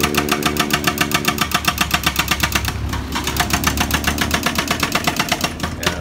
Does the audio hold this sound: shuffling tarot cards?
no